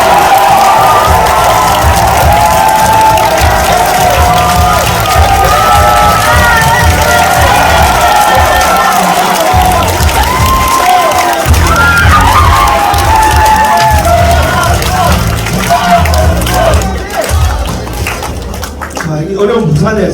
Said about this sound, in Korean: 큰 박수가 필요할 것 같습니다